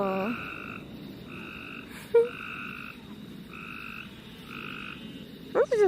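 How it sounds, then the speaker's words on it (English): Rhythmic chirping insects trill at night in steady repeated bursts, moderately near and fairly loud, with a brief thump and faint distant noises between the calls. "I just love the crickets."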